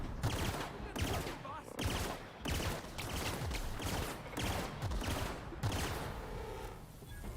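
Rapid bursts of gunfire from a video game, dense overlapping shots and rattling volleys continuing loudly throughout with brief breaks.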